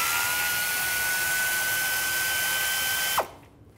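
A power tool with a 10 mm socket spins steadily to remove a bolt holding a plastic bracket on a 2000–2006 Chevy Tahoe, whining loudly for about three seconds before abruptly stopping.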